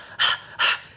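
A person imitates a dog panting during Shakti breathing, tongue out, giving two sharp, breathy huffs about half a second apart, close and loud.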